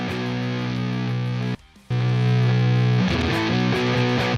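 A heavily distorted electric guitar plays a doom tone through NAM amp-sim presets. Loud sustained chords ring out, break off for a moment of near silence, then return with shifting notes.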